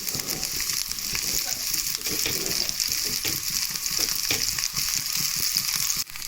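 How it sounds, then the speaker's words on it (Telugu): Chopped onion fries in half a tablespoon of oil for red chutney, producing a steady, close crackling sizzle with intermittent stirring scrapes running the whole time without speech. "ఇలా చిన్న చిన్నగా చేసుకుంటే ఫాస్ట్గా అవుతుంది, తొందరగా ఫ్రై అనేది అవుతుంది"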